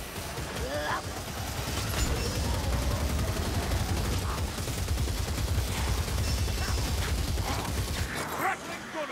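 A ratling gun from the Warhammer Vermintide video game fires in a sustained rapid rattle of shots over several seconds, loud within chaotic combat noise, with voices shouting over it.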